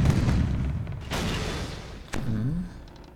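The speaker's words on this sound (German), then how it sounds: "ich versuche jetzt mal eher in den Mittelteil zu schießen." Ship cannons fire in the pirate naval game Age of Pirates Caribbean Tales, with a few deep booms rolling out at moderate loudness and one sharper blast near the end, no talk over them.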